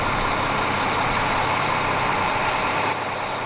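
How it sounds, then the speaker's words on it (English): A truck carrying a concrete foundation unit idles outdoors with a steady, moderately loud engine rumble and a constant high-pitched whine layered over it. "we've come outside to have a look at a truck that's ready to go to a site"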